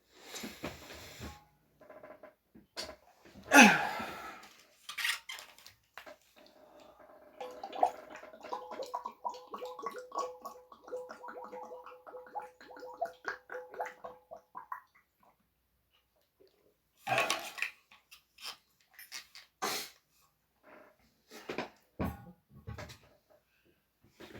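Water poured and sipped during a lecture: a short splash and trickle, a pause, then gulping and a few quieter clinks and slurps, all close, with silence in between.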